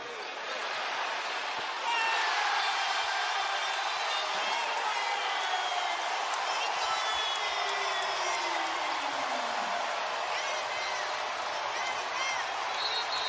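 A Boston arena basketball crowd at the Celtics' 2024 Game 5 against Cleveland keeps up a loud, continuous roar of cheering, with a broadcast voice talking over it.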